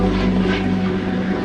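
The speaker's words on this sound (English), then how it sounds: "The helicopters are flying overhead continuously." Rescue helicopters flying overhead after Hurricane Ian, a steady loud drone of rotor and engine noise passing above without break.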